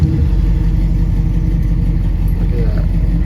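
A 1973 Oldsmobile Omega's engine idling steadily at close range, a loud low rumble that holds evenly throughout, with someone talking over it.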